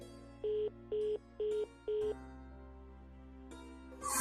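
A telephone rings unanswered in a quiet room, four evenly spaced electronic trills over a low background hum, fairly soft, followed by a faint swelling noise at the end.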